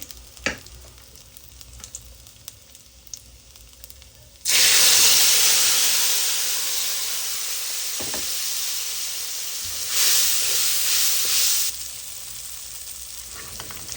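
Spice paste hitting hot oil with bay leaves in a home kitchen, a loud steady sizzle that bursts in suddenly after quiet, holds, then flares up again briefly before settling.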